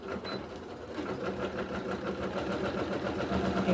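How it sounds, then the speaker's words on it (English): A sewing machine runs in a continuous steady whir at a modest level, backstitching elastic into lightweight fabric. "I'm gonna backstitch at the beginning and the end to lock in the elastic"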